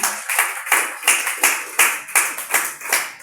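A church congregation applauds in a rhythmic, even beat, about eight sharp clustered claps in quick succession, loud and close with no talk over it.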